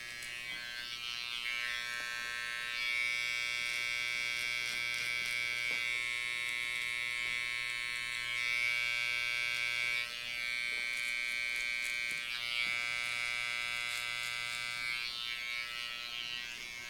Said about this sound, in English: with my outliner, I'm going to fine tune those little hairs that are sticking out